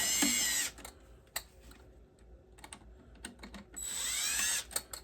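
A bolt is loosened with a ratcheting tool while a Fasco A984 draft inducer blower motor is replaced, giving two bursts of rapid ratchet clicking with quieter tapping and handling noises between them.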